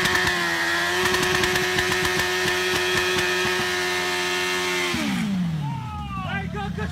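A motorcycle engine revs at a high, steady pitch with sharp sputtering pulses for several seconds, then winds down as the revs drop away.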